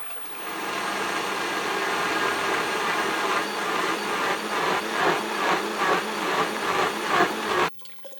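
Steady whirring of a blender whipping cream into butter, running continuously at close range with a rhythmic pulsing churn as the cream thickens, then stopping abruptly near the end.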